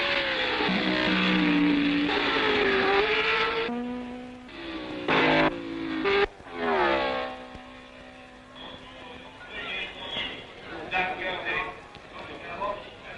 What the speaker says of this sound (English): So to the final 5 laps, virtually laps of honor for Gurney and the Porsche.